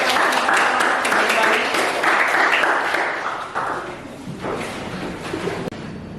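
A crowd claps in steady applause, dense and loud at first, then thinning and fading, with a few thumps near the end.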